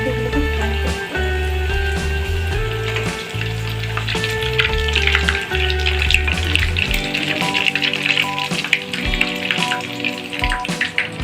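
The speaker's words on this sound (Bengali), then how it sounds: "ফ্রাই করতে সময় লাগে, হালকা নাড়িয়ে দিয়ে এগুলোকে ফ্রাই করতে হবে।" Potato cutlets frying in hot oil with a steady, loud crackling sizzle that runs continuously, with light occasional stirring in the pan and no voices.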